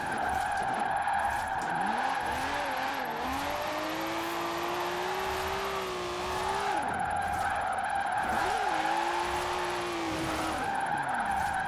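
Car spinning out while drifting in Forza Horizon 4, a loud sustained tire screech that wavers and bends in pitch over a droning engine, rising and falling as the car slides and loses control.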